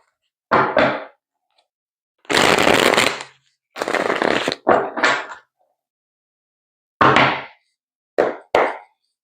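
Tarot cards being shuffled in several short bursts of papery riffling and flapping, close by, with brief silences between shuffles.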